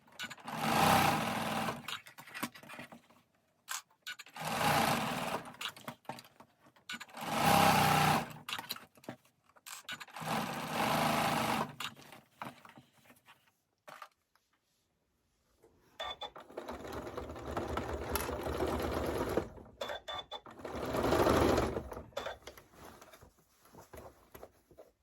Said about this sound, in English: now I'm just going to set my presser foot down and I'm just going to start stitching all the way around my bag